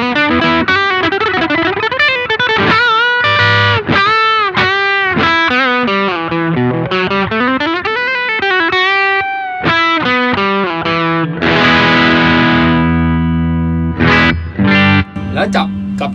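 Electric guitar played through a NUX Queen Of Tone dual overdrive pedal, loud and continuous, with bent melodic lines, strummed chords and a sustained overdriven passage that drives gritty and thick before fading to scattered short notes.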